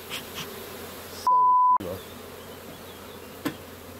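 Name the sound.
honeybee swarm buzzing around hive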